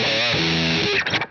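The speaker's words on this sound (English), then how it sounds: "This is a rat style distortion." Electric guitar chords through a rat-style distortion pedal, no compressor, a thick fuzzy held chord lasting about a second before a few choppy, quickly muted strums.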